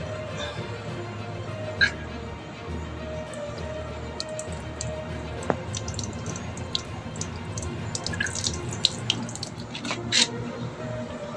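Thin water flow from a tap at two in the morning in a Malad neighbourhood with a poor supply, a faint steady trickle with scattered drips and small clinks, quiet and close in a still room.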